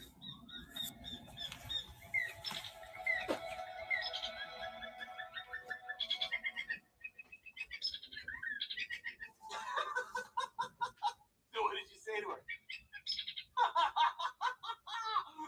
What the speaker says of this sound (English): I just hear chirps.